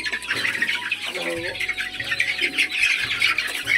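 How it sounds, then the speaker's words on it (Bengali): A chicken squawks and flutters as it is picked up by hand for beak trimming, brief harsh calls breaking out over a steady background hum, with someone talking nearby. "এই যে একটি মুরগি আপনি এভাবে নেবেন"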